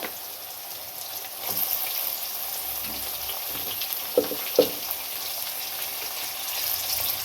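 Meat for a country chicken gravy sizzles steadily in a hot pan, a constant crackling hiss with a few louder pops in the middle.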